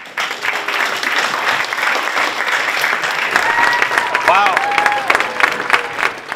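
A summit audience at Stanford Medicine applauds in a steady, full wash of clapping, while a voice speaks over it near the end.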